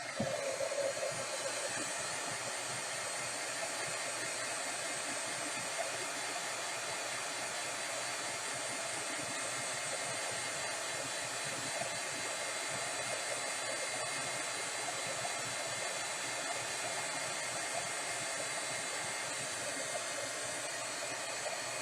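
A hair dryer blows steadily and loudly at close range for the whole stretch, drying molding paste on a craft project, a constant airy roar with no talking.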